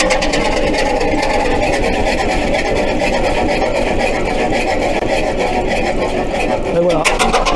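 A large engine on show at an exhibition runs steadily just after starting, with a loud, even, rapid mechanical chugging. Someone talks over it.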